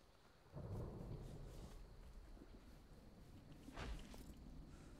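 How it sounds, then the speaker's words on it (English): Rain falling and thunder rumbling in the video game SmallLand, a steady wash of rain with two deep rolling booms, one early and one near the end. "Comes the damn rain."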